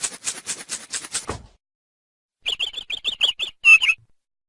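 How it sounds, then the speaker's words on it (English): Bright bird chirps from a children's educational animal game, a fast run of sharp tweets, a pause, then a second burst of clear repeated chirps ending in a louder trill. "Bird."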